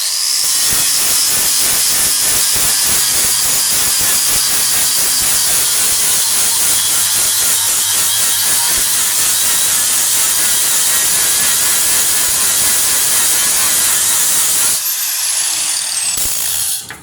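A Pferd Policlean 60-grit stripper disc on an angle grinder grinds mill scale off steel in a loud, continuous, hissing whine up close, then cuts off and winds down near the end.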